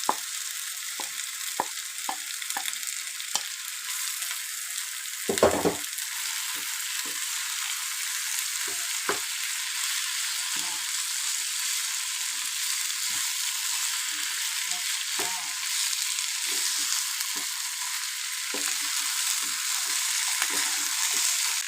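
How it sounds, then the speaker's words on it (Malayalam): Cooked vegetables being stirred into a masala dosa potato filling in a hot pan, with a steady high sizzle and frequent spoon scrapes and knocks against the pan throughout, no talking. "ഇനി ഇതിലേക്ക് നമ്മൾ വേവിച്ച് വെച്ചിരിക്കുന്ന വെജിറ്റബിൾസ് എല്ലാം കൂടെ ചേർത്ത് നന്നായി ഒന്ന് മിക്സ് ചെയ്തെടുക്കാം"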